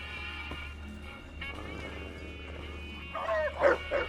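Mechanical dog Rexy from Fallout New Vegas gives a short burst of barks near the end, rising over a steady low mechanical hum and game ambience.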